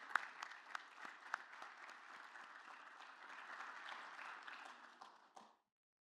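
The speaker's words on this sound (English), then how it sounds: "Please join me in a round of applause" Audience applause at a state chamber of commerce energy summit, steady sustained clapping from a seated crowd, fairly distant and even, holding for about five seconds before stopping abruptly.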